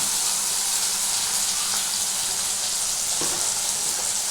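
Onion with ginger-garlic paste fries in a pan, producing a steady, even sizzle that stays constant and close throughout with no talking.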